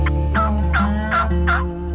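Osceola wild turkey in Florida gobbling from a roost along a tree line, four rapid, loud, rattling gobbles in close succession over a steady low background hum, with no talking.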